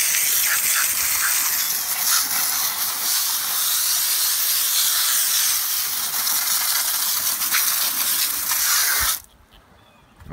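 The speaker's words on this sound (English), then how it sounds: "So basically you'll spray it until all the foam is off." Steady, loud hiss of a water sprayer rinsing foam off a car tire and rim, running continuously for several seconds, then cutting off abruptly near the end.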